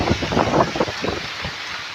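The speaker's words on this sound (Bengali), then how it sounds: "কেমন টিপ টিপ করে বৃষ্টিও পড়ছে" Light drizzle falls during a storm outdoors, a soft patter mixed with gusty wind rumble buffeting the microphone, fairly loud and close, with no voices.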